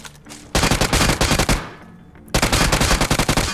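Rapid automatic gunfire in a battle royale mobile game, two loud bursts of tightly spaced shots separated by a brief pause, close and dominant with no talking.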